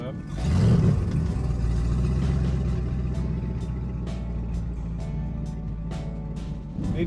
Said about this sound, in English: Need to run these engines.